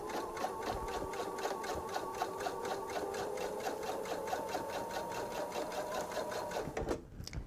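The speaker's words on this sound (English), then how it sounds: "the stitching that I'm doing now" A sewing machine runs a steady line of stitches along a fabric bag handle, a rapid even mechanical whir with regular needle clicks, close and constant before stopping abruptly near the end.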